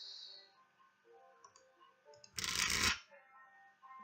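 A deck of cards riffled once in a quick, dense burst lasting about half a second, close up, with quiet tabletop clicks before and after.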